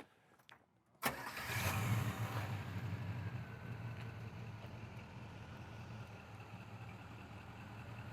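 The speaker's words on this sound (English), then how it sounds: "Let's go for a ride, can we? Yeah. Let's do it. Fire it up." A 1979 Solar Gold Pontiac Trans Am with its 400 engine cranks and fires up after a brief quiet moment, then settles into a steady, close, rumbling idle with no talk over it.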